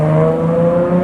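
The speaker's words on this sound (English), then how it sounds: "This car sounds angry, like it just wants to be driven fast." Single-turbo Nissan Skyline R32 GTR engine idling or running at low RPM with a deep, steady drone and strong low harmonics, close and continuous, no talking.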